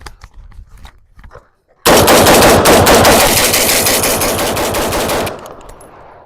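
An AR-10 rifle fires a long, loud burst of rapid shots for several seconds and then abruptly stops, after quieter handling sounds.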